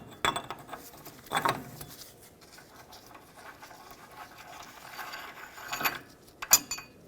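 Socket wrench loosening the rear hub nut on a 2007-2014 Chevrolet Silverado 2500 HD, a few separate metallic ratchet clicks and clinks spaced apart, close and fairly quiet.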